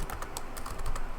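Rapid clicking keystrokes on a computer keyboard as commands are entered, a quick, uneven patter of close taps with no talking.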